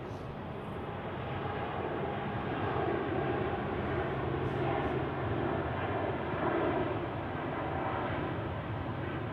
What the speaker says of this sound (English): Edelweiss A320 here